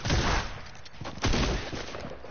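Video game gunfire rings out in a couple of loud, dense bursts close up, with brief gaps between the volleys.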